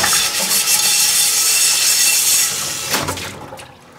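Tap water rushing over a new OXO carbon steel pan at a kitchen sink after cooking scrambled egg, a loud close wash with a brief scrubbing rub near the end before the flow tapers off.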